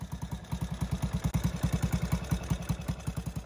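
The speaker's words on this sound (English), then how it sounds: "The Tiger Cub is something of a unique bike in this list, making use as it does of a four-stroke single-cylinder engine." A Triumph Tiger Cub trials motorcycle's four-stroke single-cylinder engine idles close by, its steady rapid exhaust beat thudding evenly for a few seconds with a slight mechanical clatter and no talk.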